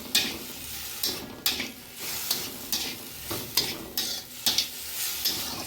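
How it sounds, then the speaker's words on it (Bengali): Dimi greens fry in a pan while being stirred, a steady close sizzle broken by regular scraping strokes about every half second, with no voices. "দেখো একটু কষতে দেবো, এটা একটু ঢেকে ঢেকে একটু কষতে দেবো।"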